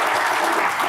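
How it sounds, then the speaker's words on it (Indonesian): A crowded audience applauds at a Q&A event, producing a brief, dense and loud wash of clapping that holds steady from start to finish. "Tepuk tangan teman-teman."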